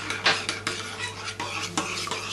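A small spoon stirs melted butter for a chocolate cake in a bowl: soft scrapes and light clinks come in uneven strokes, close and fairly quiet, with no voices.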